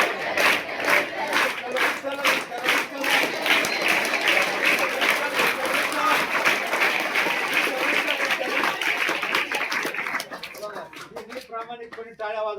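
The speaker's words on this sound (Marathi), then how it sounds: "प्रामाणिकपणे टाळ्या वाजवल्या ना बघा" A crowd at a devotional gathering claps in a steady rhythmic beat, loud and close, mixed with voices chanting and shouting along, thinning out near the end.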